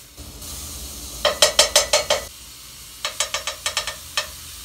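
Burrito filling of beef, jalapenos and Doritos is dropped spoonful by spoonful into a frying pan, giving two quick runs of crisp clattering scrapes and taps over a steady background hiss, with no talking.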